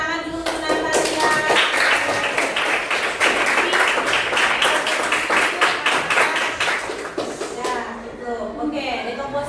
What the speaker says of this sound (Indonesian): tepuk tangan dulu untuk Natalia